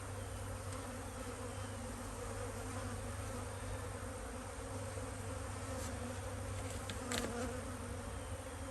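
A single honeybee buzzes steadily up close near an apiary hive, a continuous droning hum that holds throughout with a few brief sharper flickers.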